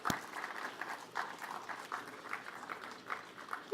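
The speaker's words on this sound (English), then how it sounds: "Let's give a round of applause for everybody" Audience at an animation screening event applauding, a soft, steady patter of clapping from a modest crowd, fairly distant and even, with a sharp knock at the start.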